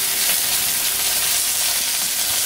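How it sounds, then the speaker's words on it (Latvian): Chicken frying in a pan gives a steady, loud sizzle with continuous crackling and hissing and no voices over it. "es tikmēr cepu vistiņu"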